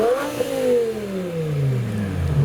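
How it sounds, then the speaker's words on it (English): A BMW E60 M5 pulls away from a car show, its engine note rising and then sweeping down steadily as the car passes close by and drives off, with no talk over it. "now driving past, we've got the E60 BMW M5 departing the show"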